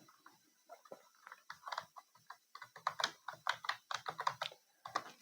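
Typing on a computer keyboard to enter a website search in a browser: a steady run of quick, close clicking keystrokes, picking up pace midway, with no speech over it.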